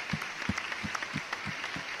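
Audience applause for a singer-songwriter at a televised talent show finale, steady clapping from a crowd with rhythmic low thumps, moderately loud and continuous throughout without talk.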